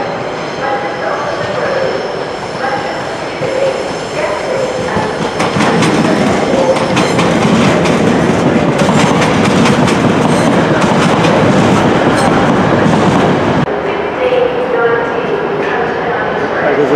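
A Grand Central Class 180 passenger train bound for Sunderland passes close by at York station, a loud, sustained rumble of wheels and engine that swells, holds with rhythmic rail clatter, then eases off.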